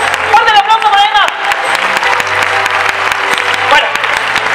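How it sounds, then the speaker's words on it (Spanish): An audience at a circus performance gives Emma loud, sustained applause, with dense clapping and crowd noise throughout and a voice calling out over the start. "¡Fuerte el aplauso para Emma!"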